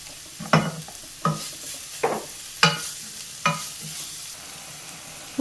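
Chopped onions, green chilli and ginger fry in a pan under a steady soft sizzle, with about five distinct scraping stirs at an even pace, close by and without talk.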